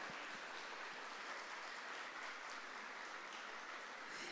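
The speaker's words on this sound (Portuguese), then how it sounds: "Uma salva de palmas à Virgem Maria, gente" Faint, distant applause for the Virgin Mary at a church talk, a soft, even hiss of many hands clapping together with no break.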